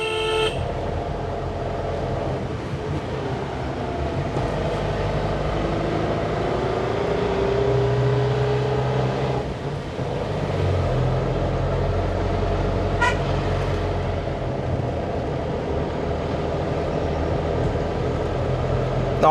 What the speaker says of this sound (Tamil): செகண்ட் கியரில் எனக்கு இது ஏறுது